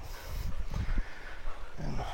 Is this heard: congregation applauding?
no